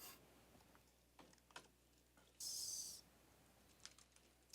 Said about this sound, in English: I will type it out live for everybody.